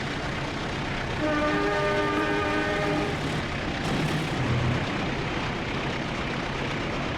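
Trainz simulator scene of passing the KA Parsel Utara parcel train near Borno station, a steady rumbling rail roar with a sustained multi-tone horn blast early on, continuous and fairly loud with no talk.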